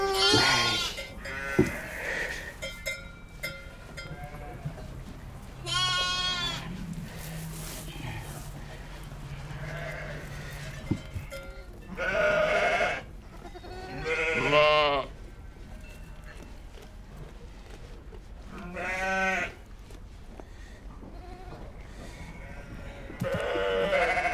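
Sheep and goats bleat in a pastoral setting, several separate wavering cries rising one after another at moderate distance, with quiet gaps and faint low background between them.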